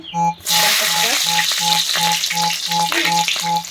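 Nigella seeds with torn dried red chilli and green chillies hit hot oil for a jute leaf dish, producing a loud, steady close sizzle with regular pulsing tones running through it.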